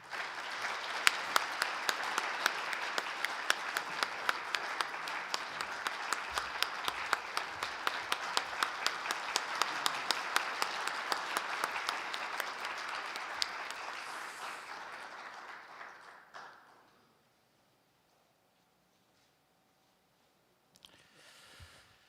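An audience at an Incheon morning forum applauds the Democratic Party presidential candidate Lee Jae-myung. Loud, sustained clapping from a large crowd lasts about fifteen seconds, fades out and leaves near silence, with a brief burst of sound at the very end.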